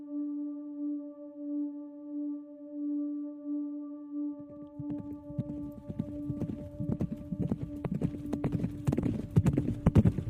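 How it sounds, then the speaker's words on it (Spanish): Approaching horse hooves, a steady drone giving way at the midpoint to a growing clatter of clip-clopping hooves that becomes louder and denser as the horses draw near. "empezó a escuchar los cascos de los caballos que se aproximaban"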